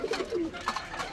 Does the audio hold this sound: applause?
no